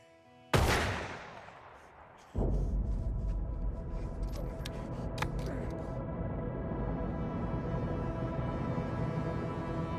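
Gunfire in a tense crime thriller: one sharp, loud shot rings out and decays, followed by a sustained roar of rapid overlapping shots and rumble that continues steadily to the end.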